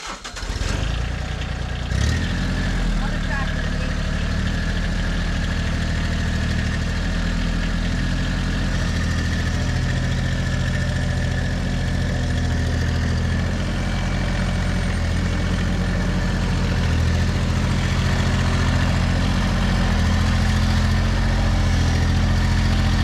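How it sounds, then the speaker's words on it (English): A farm tractor engine cranks and catches, then settles into a loud, steady close idle with a deep throbbing hum running unbroken to the end. "So now I'm going to bring the tractor right here and then I'm going to put gas in it."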